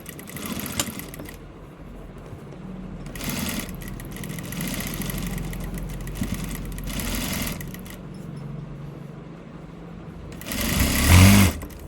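A sewing machine stitches a patti on a garment, running in a steady mechanical whir that swells and drops in several bursts, with a louder clattering stretch at the end.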